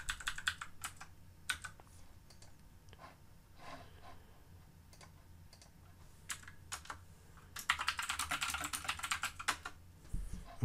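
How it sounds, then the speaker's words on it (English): Typing on a computer keyboard while entering a line of chat text, with soft scattered keystrokes early on, a few isolated taps, then a denser, louder burst of rapid clicking near the end, close and otherwise quiet. "So let me type a line."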